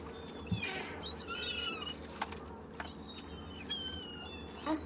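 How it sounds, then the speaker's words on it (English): Seagull cries at the seaside ring out as several sharp, sweeping calls spread across a few seconds, heard over a steady low rumble of surf and shore ambience. "a seagull."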